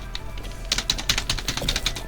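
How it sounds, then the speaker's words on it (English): Computer keyboard keys are pressed in a quick run of close, crisp clicks, about eight taps spaced unevenly over a couple of seconds against a faint low hum. "You'll hear my keyboard."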